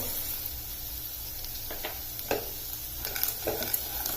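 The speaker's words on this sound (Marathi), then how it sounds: "याला आता अगदी खरपूस परतवून घ्यायचं" Roasted gram (dalia) is stir-fried in a pan, giving soft scraping and rattling strokes that come faster and louder toward the end over a low, steady hiss.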